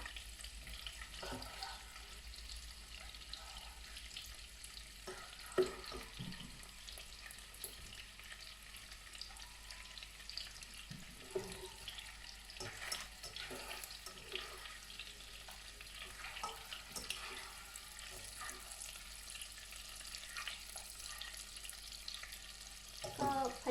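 Eggs fry in a pan while being made into son-in-law eggs: a faint, steady sizzle runs throughout, broken by occasional soft clinks and stirring sounds.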